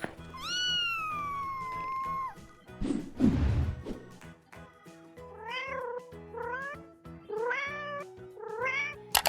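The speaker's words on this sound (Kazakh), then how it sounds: "Мысық." A domestic cat meows several times, starting with one long drawn-out call, then a loud noisy thump, then a run of shorter rising meows, close and clear with no talk.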